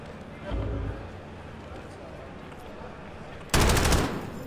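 Short bursts of LMG fire in Call of Duty Warzone 2.0, a brief volley early on and a louder, denser burst near the end over a steady game background.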